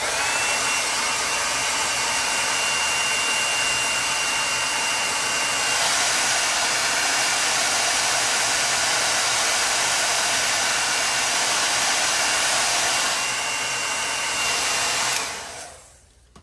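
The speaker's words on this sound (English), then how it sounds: "I'm going to dry this with my blow dryer" A hair dryer drying a green paste on a box blows steadily and loudly for about fifteen seconds, a constant broadband whoosh with a slight change in pitch midway, then cuts off.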